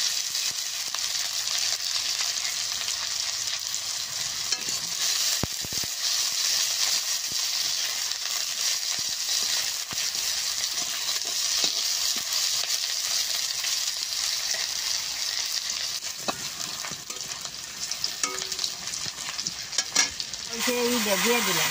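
Onion fries in a pan with ginger, a continuous close sizzle that holds steady throughout, broken by scattered clicks and scrapes of stirring.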